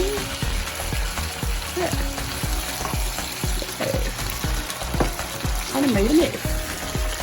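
Onions with seasonings frying in a hot pan, a continuous close sizzle with regular knocking and scraping of a utensil against the pan, and brief talk breaking in partway through.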